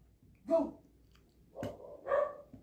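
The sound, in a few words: dogs barking while wife scolds them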